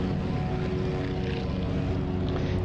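A propeller aircraft in Microsoft Flight Simulator climbs after takeoff, and its loud, steady engine-and-prop drone runs continuously with a constant tonal hum.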